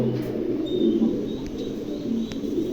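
A pair of pigeons coo in a low, continuous murmur close by, with faint chirps above and no talking.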